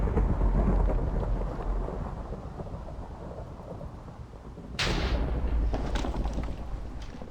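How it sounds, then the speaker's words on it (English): Heavy rain and rolling thunder in the Minecraft video game: a dense, steady roar of rainfall fills the whole stretch, with a sudden louder thunder crash about two-thirds of the way through that lingers and rumbles. "It's raining pretty hard right now,"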